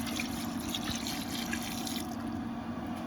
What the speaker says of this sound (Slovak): A ešte dolejeme vodu